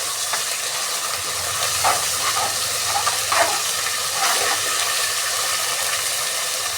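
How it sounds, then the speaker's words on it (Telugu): About 30 grams of ginger paste fries in hot oil for khichdi, giving a steady hissing sizzle with faint stirring clicks throughout and no voices. "ఒక 3 నిమిషాలు బాగా ఫ్రై చేసుకున్నాము."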